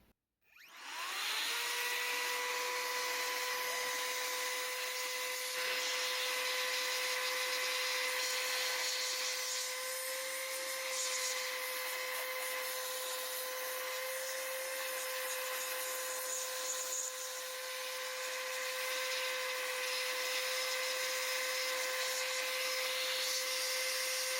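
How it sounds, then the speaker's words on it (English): A compressed-air gun blows dust off a Nintendo 64 console during an HDMI mod, a steady loud hiss with a whining tone that starts abruptly and runs on unbroken, with no talk. "I think this is probably a good time to use the air gun. So I'm just going to blow all this off."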